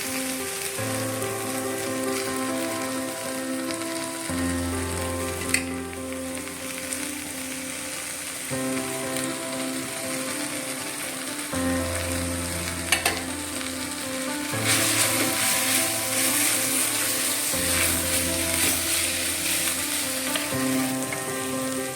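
Onions sauté in a hot pan for a drumstick-leaf dal curry, giving a long, even, rain-like sizzle over a low steady hum, with occasional faint clicks of stirring.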